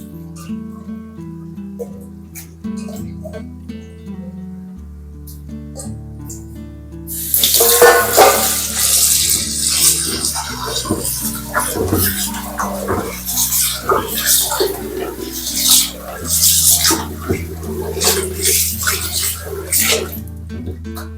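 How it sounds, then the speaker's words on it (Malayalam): Tap water runs and splashes steadily over beef being washed in a sink, loud and close after a quieter start, with someone talking faintly and a dog barking in the background. "ആദ്യം നമുക്ക് ബീഫ് നന്നായി കഴുകിയെടുക്കാം."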